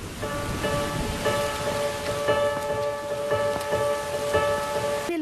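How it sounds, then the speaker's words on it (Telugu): Heavy rain pours steadily, a dense even hiss with faint tonal hum running beneath it throughout. "పెద్ద వర్షం."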